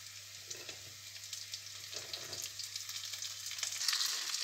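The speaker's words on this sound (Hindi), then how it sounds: "अब हम ये भिंडी जो है डाल देंगे उसमें।" Okra is tipped into a pan of lightly browned onions and fries with a steady, close sizzle that builds toward the end. Occasional stirring scrapes are heard and nobody speaks.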